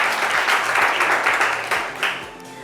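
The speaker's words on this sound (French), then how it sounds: "on va les applaudir bien fort" A studio audience gives a lively round of applause for a group of ladies, dense clapping that stays loud and close before tapering off slightly at the end.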